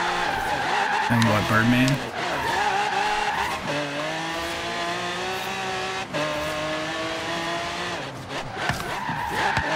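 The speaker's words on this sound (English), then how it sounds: "Popper's drifting up a storm in front of me" Cars drift in Forza Horizon 3 with long, loud tire squeals and skids over revving engines, sustained and overlapping, while someone talks briefly over the noise.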